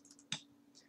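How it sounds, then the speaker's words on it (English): A single sharp, faint computer mouse click sounds against a quiet room background. "Double click it."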